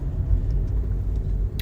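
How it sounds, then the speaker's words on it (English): A car's engine rumbles steadily at close range while the vehicle is being parked, a low continuous drone with no talking over it. "Let me just park the car real quick."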